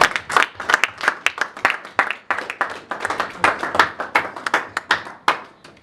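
A church congregation claps and applauds together in a dense, uneven burst of hand claps that rises and falls for several seconds, with faint voices underneath.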